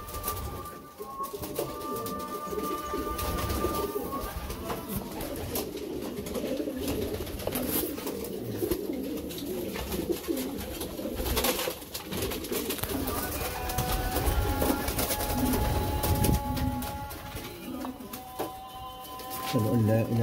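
Pigeons coo repeatedly in a loft, soft low throaty calls layered over one another, with someone talking over them for much of the time.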